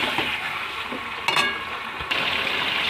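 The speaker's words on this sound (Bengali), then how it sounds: "এই যে মাংসটা ভালো করে কষিয়ে নিই" Spiced pork sizzles and fries in a pan while being stirred, a steady close hiss with a few brief scraping and clinking stirring sounds and no talking.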